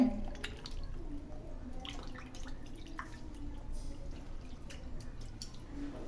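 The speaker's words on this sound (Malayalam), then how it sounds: "പുളി ഒന്ന് എടുത്തു വെച്ചിട്ട് അതൊന്ന് നമുക്ക് പിഴിഞ്ഞൊഴിച്ച് കൊടുക്കാം" Tamarind water squeezed and poured into a pan while cooking spicy sardine curry, giving a steady, close liquid trickle with faint drips and light splashing throughout, no talking.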